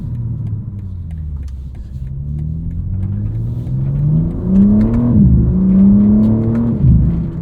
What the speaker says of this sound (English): And this titanium exhaust sounds pretty awesome.